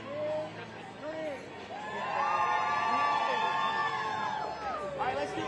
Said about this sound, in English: When I count to 3, I want y'all to give me the biggest cheer ever, okay?